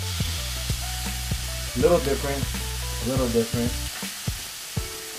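Burgers fry in a heavy-duty metal pan on a gas stove, sizzling steadily up close, with scraping and clinks from stirring and a brief spoken remark over the crackle.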